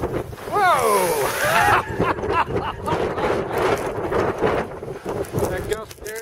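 Strong wind gusts and big waves crashing over the top at Silver Bay, Minnesota, on Lake Superior's shore; loud roaring wind buffets the microphone while surf churns, and a voice exclaims excitedly early on.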